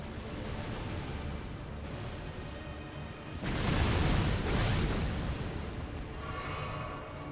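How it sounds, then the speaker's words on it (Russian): Explosion in the Elden Ring video game during a duel with a Great Jar knight: a deep, rumbling boom swells up midway, lasts about two seconds and then fades back into quieter game ambience. "Сейчас будет взрыв."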